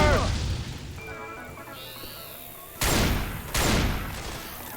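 Gunfire in a zombies shooter game: a loud opening burst fades into quieter game noise, then two sharp, close blasts land about a second apart near the end.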